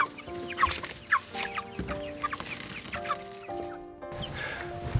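Broiler chickens settled in a new coop, clucking and murmuring close by in short irregular bursts, several birds overlapping with soft chirps and no talk.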